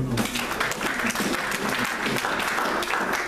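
Congregation clapping at a French-language church service, dense sustained applause filling the space from start to finish, with a few voices calling out underneath.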